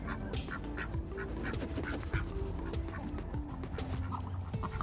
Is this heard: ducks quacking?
yes